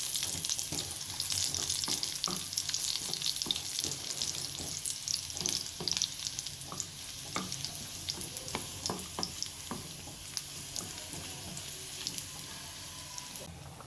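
Crushed garlic and chopped onion sizzle in hot oil with dried red chillies as they brown for a spinach and lentil dish, a constant close crackle punctuated by frequent scraping stirs, easing slightly toward the end; no one talks.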